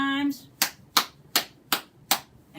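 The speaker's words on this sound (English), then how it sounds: "Let's clap 5 times" Five sharp hand claps in a steady rhythm, close and fairly loud, part of a children's counting motion song, following a brief sung note.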